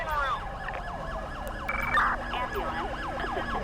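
A video game ambulance siren wails, sweeping up and down steadily over a low engine rumble, loud and continuous throughout.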